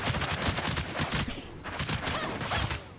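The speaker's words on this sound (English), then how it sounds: "back to shooting them from above" Rapid gunfire rattles out in dense bursts while enemies are shot from above in the action game Tower of Fantasy, loud and continuous with brief pauses between volleys.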